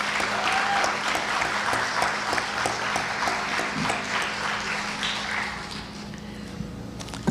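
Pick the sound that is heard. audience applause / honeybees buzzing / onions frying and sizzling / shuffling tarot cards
audience applause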